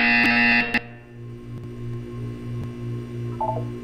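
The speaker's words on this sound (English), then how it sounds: "You will hear a buzzer. When you hear the buzzer, look down," A loud electronic buzzer sounds in Portal 2, a harsh tone of under a second, followed by a low pulsing hum and faint test-chamber ambience.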